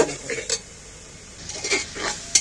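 A metal spoon scrapes and clinks against a cooking pot while meat masala gravy is stirred, a few short uneven strokes close up with brief scrapes between them and no talk.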